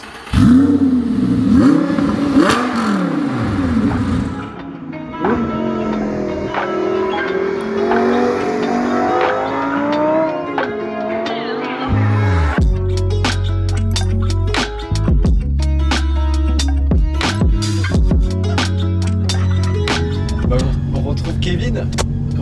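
An Audi R8 GT sports car on the road, its engine rising and falling through revs, then a sharp upshift into a steady, loud, close roar with rapid rhythmic pulsing and brief breaks between gears.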